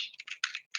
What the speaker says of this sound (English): So then if I type in GPG dash dash